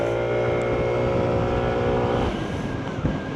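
Daytona Virtus 125 scooter engine accelerating, its steady whine climbing and then roughening under throttle, recorded close and continuous with no talk.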